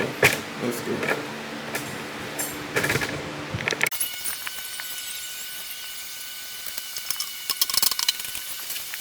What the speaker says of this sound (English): now we're going to put on the timing cover and then screw in all the bolts